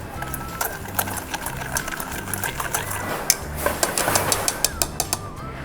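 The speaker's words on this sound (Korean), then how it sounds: "지금 버터 그리고 설탕 이렇게 넣고 그 다음에 혼합하면 돼요" An electric mixer creams butter and sugar in a bowl, whirring with a steady mechanical drone broken by rattling clicks and taps of beaters against the bowl.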